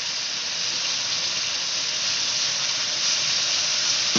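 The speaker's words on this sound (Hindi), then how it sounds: "सबसे पहले मूंगरों को अच्छे तरीके से भून लेंगे।" Radish pods (mungre) fry in masala in a pan, giving a steady, even sizzle and hiss that holds at one level throughout without talk.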